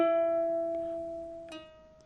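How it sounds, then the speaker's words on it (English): A ukulele note rings and a slightly lower note follows as the finger lifts off, the pair repeated with light transient clicks, fading out, no talking. "4 pull off 3 would sound like this."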